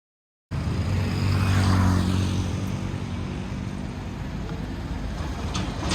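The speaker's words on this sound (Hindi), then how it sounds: "बस अब हम यहाँ से थोड़ा अपनी गाड़ी को स्लो कर लेते हैं" A car on the road to Tughlaqabad Fort in Delhi rumbles and roars with broadband engine and road noise, loud from the start and easing slightly as it slows, with no speech.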